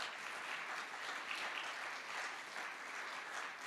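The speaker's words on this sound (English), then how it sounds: "Could we give her a round of applause?" An audience at the Nova Scotia Talent Trust 2025 special awards ceremony gives a round of applause, a steady, sustained clapping from a crowd heard at moderate distance with no talk over it.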